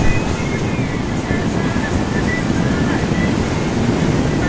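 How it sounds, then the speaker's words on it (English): Ocean surf at Pedro de Sol Beach in Brazil, with waves crashing in a continuous loud wash, mixed with gusty wind buffeting the microphone, and no talk over it. "At Pedro de Sol Beach, the surf was up and so were the surfers."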